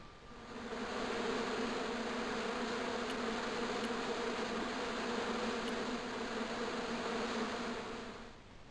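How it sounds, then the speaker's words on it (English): Insect-like buzzing from a bush on an island in the Broken Sword II: The Smoking Mirror adventure game: a steady, moderately faint drone that fades in, holds evenly and tapers off, with a few tiny clicks and no speech. "here was a bush that was buzzing"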